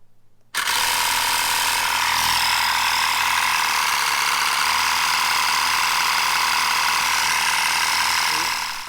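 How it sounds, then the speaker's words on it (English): A small air compressor for a KLR 650 motorcycle starts up abruptly and runs steadily, a loud close mechanical drone with a rapid rattling pulse, continuing without pause until it cuts off at the end. "And that should get the compressor going."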